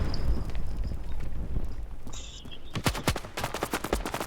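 Rapid bursts of automatic gunfire from the mobile shooter Standoff 2 crack loudly in a dense string during the second half, after a stretch of rumbling game ambience.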